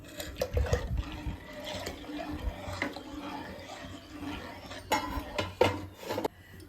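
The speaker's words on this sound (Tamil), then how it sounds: "இப்போ நம்ம வெல்லம் வடிகட்டி எடுத்து வச்சுருக்கோங்களா, அதை இந்த பாயசத்தில் ஊற்றிக்கலாம்." Strained jaggery syrup poured into a pot of rice payasam, a soft liquid splashing and trickling that comes in uneven bursts, with a few louder spills near the end and clinks of a vessel.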